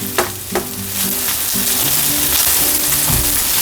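Frozen rice for kimchi fried rice sizzles and fries steadily in a hot pan, with a few louder stirring scrapes near the start and a continuous close crackle throughout, no voices.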